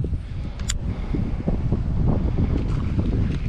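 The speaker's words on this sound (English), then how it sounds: "A lot of wind, and the wind is gonna make it very tough on me." Strong wind buffets the microphone outdoors on the water while fishing in thick moss, a loud continuous low rumble with gusty fluctuations throughout.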